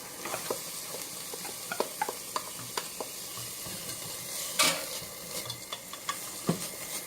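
Chopped celery and vegetables sweat in a pot for vegan 15-bean chili, giving a steady soft sizzle with scattered crackles, occasional stirring clicks and a sharper spatter midway, close and alone without talk.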